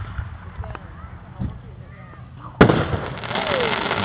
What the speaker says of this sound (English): It's just fireworks.